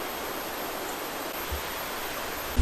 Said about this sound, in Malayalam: ഇപ്പോൾ വെള്ളച്ചാട്ടത്തിൻ്റെ ശബ്ദം അടുത്തേക്ക് എത്തി തുടങ്ങിയിട്ടുണ്ട്